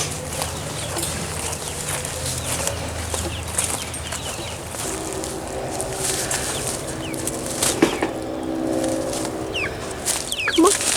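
Chickens cluck and murmur close by amid rustling and shuffling, with occasional sharper calls and a flurry near the end.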